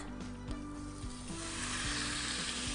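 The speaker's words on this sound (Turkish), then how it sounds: "Etlerimi de daha önce kızdırdım tavaya atıyorum. Yani şu tavaya attığınız zaman şu sesi duymalısınız." Pre-browned meat hitting a hot pan, a loud steady sizzle of frying that swells and spreads as the pieces settle, with a few soft knocks of meat and utensil against the pan and no talking.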